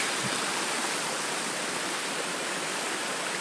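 Water of a mountain creek rushing steadily nearby, a dense, even roar of flowing water with no pauses and no voices.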